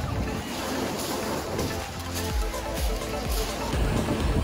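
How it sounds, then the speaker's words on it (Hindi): Sea waves wash continuously onto a beach on the Isle of Wight, a loud broadband roar mixed with wind buffeting the microphone, with people talking underneath. "समुंदर है ये समुंदर।"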